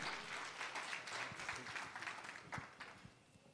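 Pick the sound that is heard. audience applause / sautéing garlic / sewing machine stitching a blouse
audience applause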